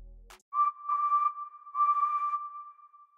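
A clear, high whistle sample in a music track sounds in two sustained phrases, then holds steadily, bright and clean after a brief click at the start.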